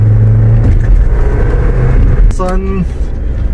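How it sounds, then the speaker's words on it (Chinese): A classic Mercedes-Benz W123 pulls away and accelerates, its engine rumbling low and steady, with a brief horn-like tonal burst near the end and voices talking over it. "光是启动就蛮明显的，油门的回馈很明显"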